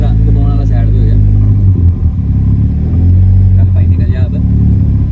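A small car with a powerful engine revs hard and pulls away in first gear with a loud, close, throaty roar that climbs, dips briefly, then surges again while someone speaks over it.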